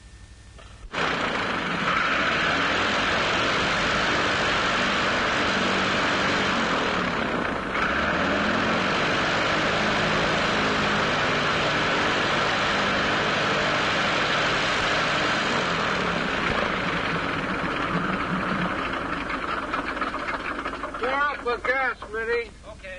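An airplane engine runs loud and steady for over twenty seconds, a continuous close droning roar, with voices talking over it near the end.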